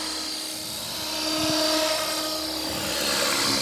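Blade Fusion 360 bind-and-fly RC helicopter in flight on a windy day, a steady high rotor and motor whine with a brief throb as it shifts, heard nearby without talk.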